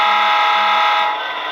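A horn sounding from an Athearn Genesis SD-70 HO scale model locomotive, one loud, steady electronic blare held for about a second and a half, heard close up with no talking.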